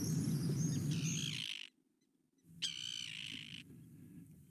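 Swifts scream in fast flight over Richmond Park, a burst of high, shrill, buzzing calls that stops for about a second and then returns in a second loud volley, over a low outdoor hum.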